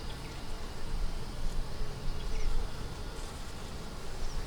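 Honeybees hum in a dense, steady drone around an open hive being inspected for a new queen, close and fairly loud, rising and falling slightly with no one talking.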